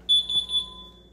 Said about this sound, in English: That beeping you're hearing as well is a lovely ADT security system.